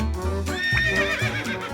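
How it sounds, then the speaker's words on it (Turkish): A horse on a farm gives a loud, close whinny with a wavering, high-pitched call, and a few soft hoof clip-clops sound beneath it. No one speaks. "Bu bir at."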